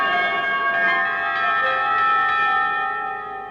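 Tubular bells ring in a rehearsal of Messiaen's Et Expecto Resurrectionem Mortuorum, one loud sustained strike with rich metallic overtones slowly decaying near the end.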